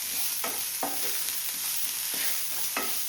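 Beaten eggs scrambled and stirred in a hot pan for a spicy egg roll filling, with about six quick scraping strokes over a steady, close sizzle.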